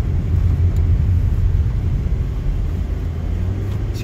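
A Subaru Impreza with the FB20 engine accelerating, heard as a steady low, loud rumble with a rising drone and road noise from inside the cabin, continuous with no voices.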